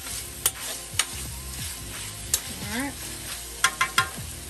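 Home fries being stirred in an oiled pan, with scraping utensil clicks and knocks over a steady close frying sizzle, while a voice briefly speaks.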